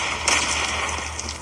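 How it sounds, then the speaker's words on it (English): Gunfire in the mobile shooter Call of Duty Mobile, heard as a dense, continuous burst of rapid shots with a sharp crack near the start, set against a steady low rumble of game ambience. "Who's shooting me?"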